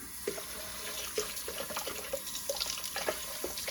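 Cold tap water pours steadily into a kitchen bowl holding bleach, a continuous close rush of running water with small splashes and drips, alone with no talking.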